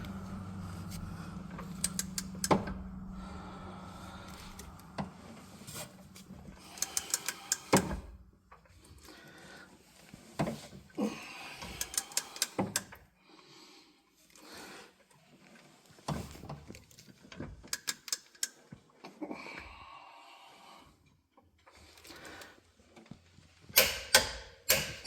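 Clicks, ratchet ticks and metallic clatter as a torque wrench tightens the clutch nut on a Yamaha Wolverine 850 or RMAX 1000 side-by-side to 225 ft-lb, in scattered bursts with quiet gaps.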